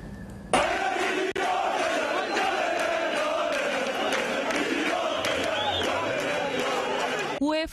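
Tens of thousands of Fenerbahçe supporters, joined by Beşiktaş fans, on a protest march against a UEFA European ban; a dense, loud crowd roar of chanting and shouting runs continuously for several seconds.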